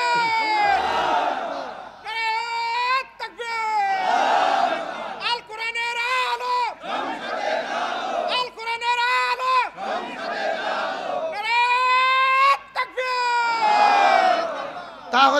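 A large gathering answers a religious speaker with loud, repeated chants of takbir. Each rhythmic call is followed by a brief pause, and the voices sound both near and spread out across the crowd.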